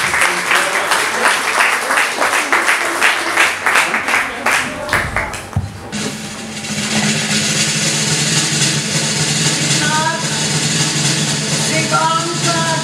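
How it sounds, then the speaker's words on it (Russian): Dense, loud audience applause in a concert hall for a young singer performing a song from the musical Notre-Dame de Paris, rhythmic clapping for about six seconds before fading as orchestral music begins. "Аплодисменты!"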